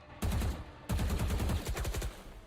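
Two bursts of rapid video game gunfire from a competitive charity esports match, close and fairly loud, the second burst longer and trailing off into scattered shots, with no talk.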